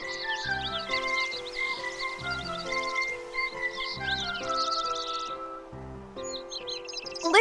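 Birds in the Kingdom Hearts 3 video game sing bright, quick chirps and trills over a light tune of musical notes, with the song stopping briefly before starting up again.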